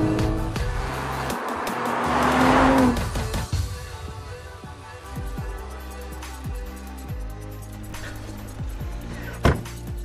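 An Audi RS 5 Coupé with 450 horsepower is driven hard, its engine revving and shifting through gears with a steady, fairly close roar and a brief sharp peak near the end.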